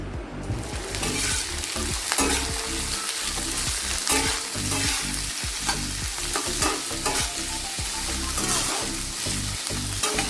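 Vegetables frying and being stirred in a pan at home, with a steady close sizzle and repeated scraping strokes of a utensil against the pan, loud and continuous with no talk.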